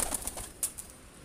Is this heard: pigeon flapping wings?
yes